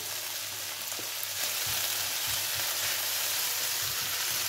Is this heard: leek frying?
yes